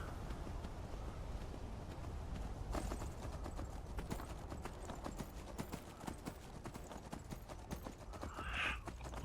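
A horse gallops at high speed in Skyrim, its hooves drumming in a quick, continuous clip-clop rhythm close by, loud and unbroken with no voices over it.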